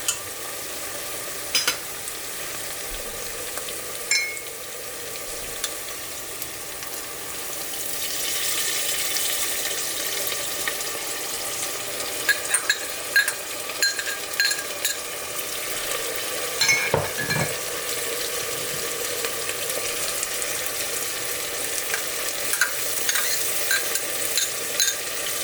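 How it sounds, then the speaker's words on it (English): Onions frying in a pan with ginger and garlic paste for beef halim: steady close sizzle throughout, with occasional stirring scrapes and clinks. "we're going to cook the onions for a little while, like for about 4 or 5 minutes"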